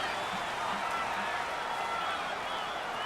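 Stadium crowd roar from the Madden NFL 19 football video game during a Redskins game: a steady, dense wash of crowd noise throughout, loud and continuous, with faint commentary-like voices underneath.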